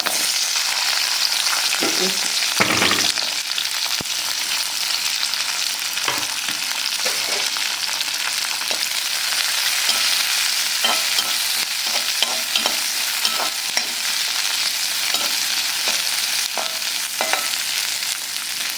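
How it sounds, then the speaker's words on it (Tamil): Two sticks of cinnamon and two cloves sauté in hot oil for a gravy, giving a steady, close sizzle with occasional scrapes and clinks of a stirring spoon throughout. "சும்மா 2 பட்டை 2 லவங்கம் போட்டு இது பார்த்திங்கனாக்கா கிரேவிக்கு வதக்கிறேன்."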